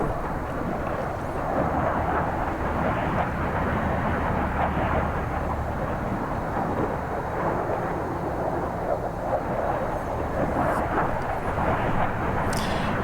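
A naval aircraft engine in the Sea Power simulation game drones as a steady, loud roar just after takeoff from a ship's deck, continuous and unbroken throughout.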